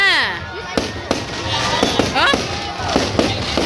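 Firecrackers pop at a Christmas tree lighting celebration on a Caribbean island, with several sharp, loud cracks in an irregular sequence while people talk and shout nearby.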